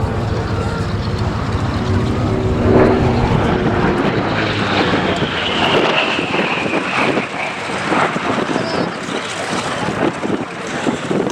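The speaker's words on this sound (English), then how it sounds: "this is the ultimate expression of fighter aircraft designed around a piston engine" A Grumman Bearcat piston-engine fighter flies past at an air show, its propeller engine droning loudly and steadily over wind buffeting, the pitch sliding as it passes while a commentator talks over the public address.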